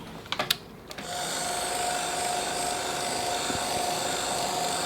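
A heat tool whirs on with a steady droning blow while drying Desire Velvet Dimensional paint on a journal page, a few short clicks and knocks first, then a constant mid-level hum.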